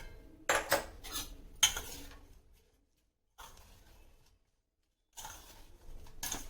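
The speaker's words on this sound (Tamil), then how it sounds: "இது ஒரு தடவை மிக்ஸ் கொடுத்துருங்க." A spoon mixing warm oil and salt into an ivy gourd and sesame pickle in a bowl: bursts of close metallic scraping and clinking, separated by stretches of silence, with no talk.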